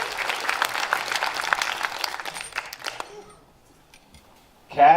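A comedy roast battle audience claps and cheers in a dense, loud burst that thins out after about three seconds into scattered claps and near silence. A voice briefly cuts in at the very end.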